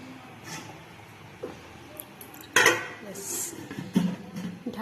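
A lid clatters onto a cooking pot holding a lentil dish, giving a sharp close metallic clink followed by a smaller knock, amid quiet kitchen handling noises.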